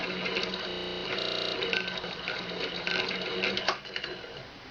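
Singer 201k sewing machine winding a bobbin, a steady mechanical whir with a faster burst early on, running continuously up close with no talking.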